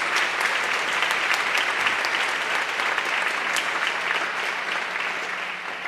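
A church congregation applauding during a sermon, sustained dense clapping from many people filling the room, even and fairly loud from start to finish, with no speech on top.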